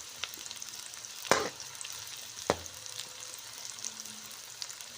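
Onions frying in a pan over a medium flame give a faint, steady sizzle, with two sharp clatters from the pan or a utensil breaking through.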